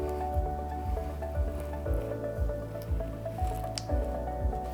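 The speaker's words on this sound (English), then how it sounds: "using our cake smoother, 45-degree angle, consistent pressure, slowly turning the turntable to smooth that layer of the crumb coat" Cake smoother held against a buttercream crumb coat on an Easter cake as the turntable slowly turns, giving a steady soft scraping squish with a regular low knocking pulse about once a second, close and unbroken.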